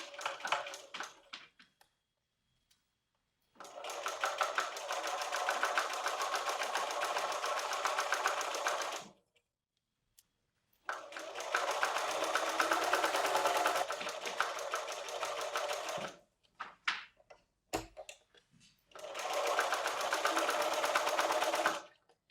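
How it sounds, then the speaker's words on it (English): Sewing machine running in three long bursts of steady stitching along a quarter-inch quilt seam, crossing a folded section of a color-block throw, with short pauses and small clicks between runs; no voices. "now I'm going to stitch this again with a 1/4 inch seam allowance. Stitching right over that folded section."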